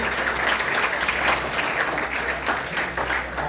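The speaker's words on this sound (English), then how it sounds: "A big round of applause for our special guest." A seated audience at a panel discussion on sustainable engineering applauds a special guest, steady dense clapping at moderate loudness filling the whole stretch without pause.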